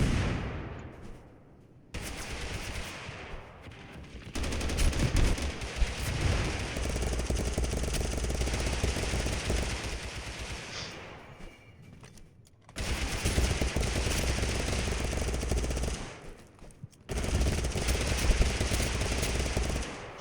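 Scar H rifle gunfire in the video game TABG, loud rapid bursts of automatic shots in several long stretches separated by brief pauses, dense and sustained with no talk over it.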